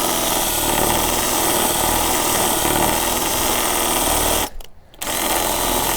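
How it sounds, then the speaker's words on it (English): A power drill fitted with a Speed Out screw extractor bit, trying to back out a stubborn screw, whirs loud and steady close up, with a brief break near the end before spinning again. "it doesn't seem like this bit is able to handle the drilling as well as the DeWalt did"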